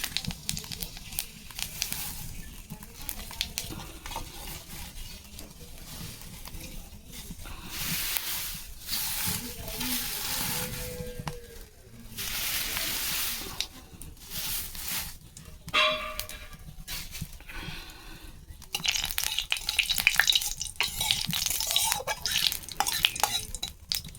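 Panch phoron whole spices sizzle and crackle in hot oil in an Indian village kitchen, with stirring and scraping against the pan through a long stretch and occasional clinks of utensils.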